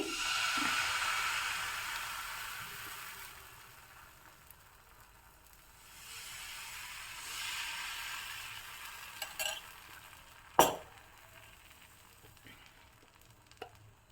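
Dosa batter cooked with ghee sizzles and hisses on a hot pan, loud at first, then softer. A few sharp clinks and scrapes come late.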